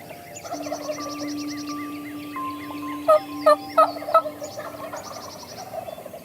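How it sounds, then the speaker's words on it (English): Wild turkeys gobbling from a roost close by in the countryside, a run of four loud rattling gobbles bunched together, while other birds chirp and sing steadily around them. "the turkeys are gobbling just right there"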